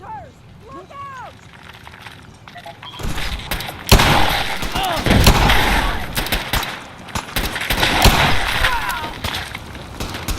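Gunfire in the Fallout 4 video game crackles in dense bursts of shots and booms, loud and fairly near, starting after a quieter opening, mixed with shouting voices and game sounds throughout.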